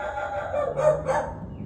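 A dog gives a couple of quick barks nearby, fairly clear against a quiet background.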